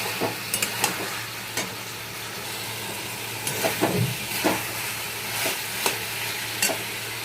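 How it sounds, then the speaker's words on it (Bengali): Fried puti fish and fried eggplant go into a frying pan and are stirred, with a constant sizzle and hiss broken by repeated sharp spatula scrapes and clinks against the pan. "এবারে এই যে পুঁটি মাছ ভাজা করা আছে, পুঁটি মাছটা এর মধ্যে দিয়ে দেবো।"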